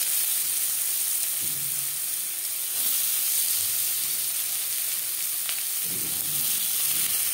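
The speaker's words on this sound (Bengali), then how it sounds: "মাছ ভেজে নেওয়া তেলে দিয়ে দেবো পেঁয়াজ কুচি" Chopped onions frying in oil left over from frying fish, for a low-oil tuna fish curry: a loud, steady close sizzle with hissing steam throughout and a few faint stirring knocks.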